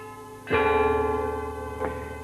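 An ancient Chinese bronze bell set from 5th century BC China, one bell struck with a bright ringing tone that sustains and slowly fades, followed by a second softer strike.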